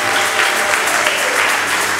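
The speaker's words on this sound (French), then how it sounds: "Acclamons pour le Seigneur." A church congregation claps and applauds at a Sunday service, a dense, steady burst of many hands clapping together, fairly loud and close, lasting a couple of seconds.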